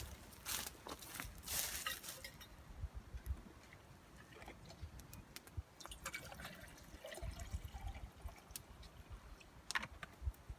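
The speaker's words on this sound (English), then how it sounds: "I'm gonna go ahead and get some water going" Water splashes and trickles into a small camp cup or pot for campfire coffee, heard as irregular close-up liquid sounds and light clinks over quiet outdoor background, with no talking.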